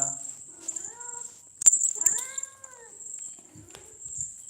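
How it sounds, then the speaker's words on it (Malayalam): An affectionate house cat meows several times, with two or three clear rising-falling calls close by in a quiet room, plus a few soft clicks and faint background hiss. "നമ്മളിവിടെ ഏറ്റവും സ്നേഹമുള്ളൊരു പൂച്ചയാണ്"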